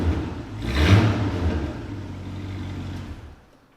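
The all-aluminum 4-liter Hemi V8 revs once close by, swelling and easing off into a smooth, soft idle before fading out.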